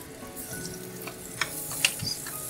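Minced garlic sizzling in hot oil during stir-frying, a soft steady crackle with a few sharper pops and a light scrape of stirring.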